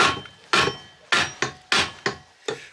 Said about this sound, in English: Oh, I like copper hammers, but any old hammer will do.